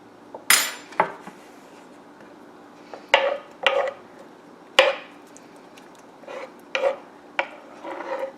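A knife cuts through cooked sausages on a cutting board, giving a handful of sharp, close knocks and clacks in uneven bursts with pauses between them, and no voices.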